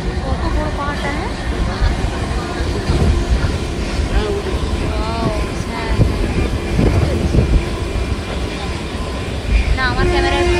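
A train passes close by, a steady loud rumble of rail wagons with wind buffeting the microphone and faint voices mixed in throughout.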